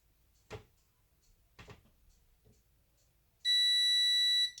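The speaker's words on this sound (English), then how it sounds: "there's our timer" A kitchen timer for baking cookies beeps loudly in a steady high-pitched tone near the end, after a few soft clatters and handling noises.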